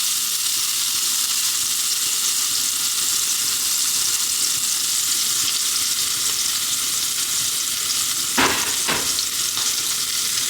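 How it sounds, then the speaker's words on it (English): A steak sears loudly in a hot pan still holding traces of garlic and salt, giving a steady dense sizzle throughout, with a couple of brief sharp scrapes or presses near the end. "We are gonna go ahead and get our steak, and we're just gonna press for a"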